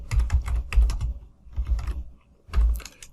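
Close, fairly loud computer keyboard typing during a Word document lesson, in three short bursts of rapid key clicks separated by brief pauses, with no voice.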